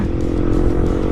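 A motorcycle fitted with a Qala racing exhaust revs close by with a dense, steady low rumble, loud and continuous throughout the short burst with no talk.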